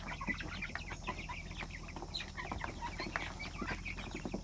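Five-week-old Red Ranger chickens cluck and chatter steadily as a flock, with dense overlapping calls and occasional wing flaps, fairly near and continuous.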